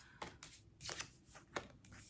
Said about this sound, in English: Let's flip over these cards and see.